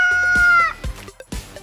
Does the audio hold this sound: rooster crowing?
yes